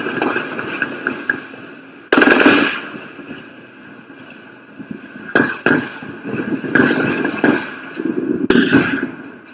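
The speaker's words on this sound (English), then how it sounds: "They open fire in the village." Gunfire in a village in Biafra land: several irregular, sharp broadband bursts, some clustered and some spaced a second or more apart, rise over a steady hum of background noise.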